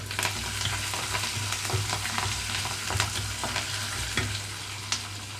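Finely chopped green chillies hit hot oil in a pan for semiya lemon pulihora, a steady close sizzle with occasional stirring scrapes and pops.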